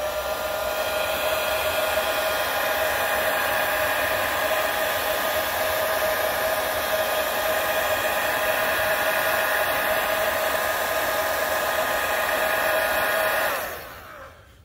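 Heat gun warming the adhesive behind a BMW badge, a loud steady whirring blow with a tonal whine, running continuously close by before cutting off at the end.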